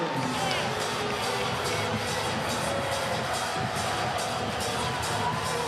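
A volleyball arena crowd at a 2023 NCAA tournament match between Pittsburgh and Louisville reacts to a disputed call that stands, a loud, steady roar of many voices with shouts throughout.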